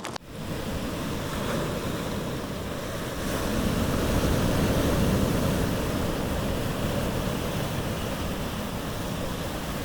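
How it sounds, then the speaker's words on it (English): Big surf on a windsurfing beach, with heavy shore break crashing continuously in a dense, steady roar that swells louder midway, along with buffeting wind noise on the microphone; no one talks. "hopefully I'm not gonna crash it in these waves, but the shore break looks gnarly"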